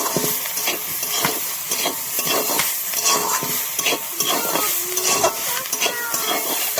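Vegetables with a little soy sauce being stir-fried in a pan for vegetable chow mein: rhythmic spatula scrapes and clacks over a steady sizzle, close and busy.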